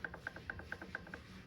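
Gritty grinding rub repeating in quick, even pulses as loose motorcycle transmission gears, with play between primary and secondary gears, scrape while turned by hand, close up with no talking.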